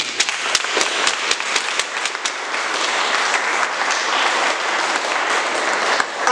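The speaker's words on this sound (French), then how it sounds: "Veuillons les applaudir." Guests at a wedding ceremony applaud the couple, a sustained crowd of clapping with a few sharp, distinct claps standing out near the front of the room.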